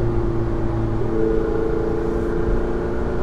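Ferrari 488 Spider with a 3.9-liter twin-turbo V8 cruising along a mountain road, its steady engine drone and road roar continuous and close throughout, with no voices.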